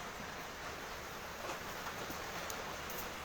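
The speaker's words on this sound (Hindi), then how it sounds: "फिलहाल ये जो मूसलाधार बारिश है इस बीच यहाँ पर ये डटे हुए हैं" Heavy monsoon downpour at an outdoor protest sit-in in Himachal Pradesh, heard as a steady, even wash of rain noise throughout, moderately loud with no voices.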